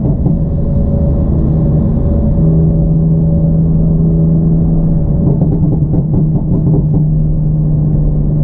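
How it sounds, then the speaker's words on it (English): A BMW F80 M3 or F82 M4 with an MHD burble tune and catless downpipe idles with a deep droning exhaust, throttle blips raising the tone, then a rapid crackling burble near the end, heard from inside the car. "So like I'm blipping the throttle now."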